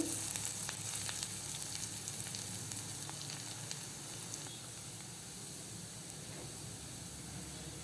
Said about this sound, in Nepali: यसैमा मैले अब हरियो खुर्सानी पनि राखेँ। हल्का चलाउँदैछु।